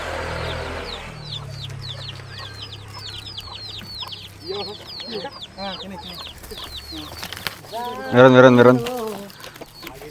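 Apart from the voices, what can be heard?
chicken clucking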